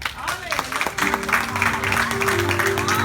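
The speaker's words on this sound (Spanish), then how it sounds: "Den un aplauso al Señor." Congregation clapping during a Sunday church service, a moderate wash of applause mixed with voices and sustained musical tones underneath, steady and fairly close.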